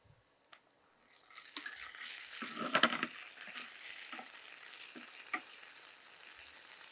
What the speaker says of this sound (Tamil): இப்போ ஒரு 2 நிமிஷம் ஸ்லோ ஃபயரில் அப்படி வதக்கி எடுத்துக்கலாம்.